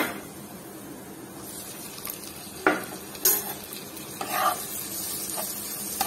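Shrimp go into a pan of frying pumpkin and spices, bringing a soft steady sizzle with a few louder splashy bursts as pieces drop in and get stirred.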